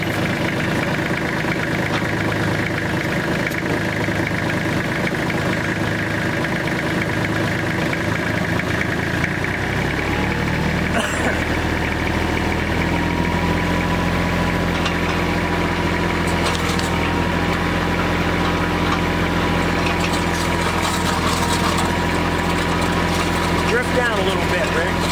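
An auger truck's engine runs continuously, a loud steady diesel drone that shifts to a deeper, heavier tone partway through as the auger is lowered to dig, with voices talking over it.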